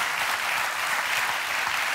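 Steady, full applause from a TV studio audience greeting comedian Wolfgang Trepper on Extra 3, with many hands clapping at a constant close level and no talk over it.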